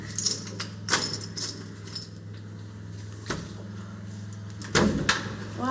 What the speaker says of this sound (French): t'oublie pas de fermer la porte à clé